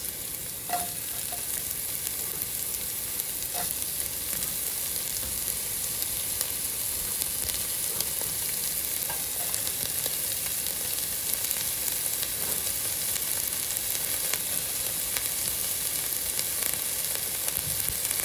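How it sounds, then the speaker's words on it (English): Onions fry in hot ghee in a pot for ginger and garlic lentils, giving a steady, close, even crackling sizzle that lasts throughout with no talk. "So now that the ghee is hot, we will add our onions."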